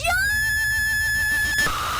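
Cardboard cutout figures in the horror game Poppy Playtime let out a shrill, wavering synthetic scream that holds for over a second and a half, then cuts off abruptly.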